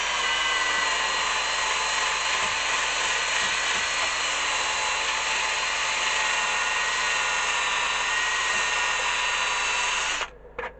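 Steady high-pitched whine of a power sander on a yew bowl held on a stationary lathe, loud and continuous for about ten seconds before cutting off abruptly.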